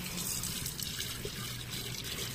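Water runs steadily from a motor-pumped tap, a continuous broadband rush that holds at an even level throughout, with no talk over it.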